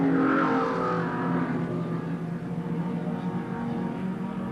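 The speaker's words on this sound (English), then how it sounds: "These are the fastest cars in the race, starting from the back of the grid in this handicap event." Historic racing cars accelerating away from the back of the grid in a handicap race at the Phillip Island circuit, a loud, continuous engine roar that holds steady and slowly fades as the pack pulls away.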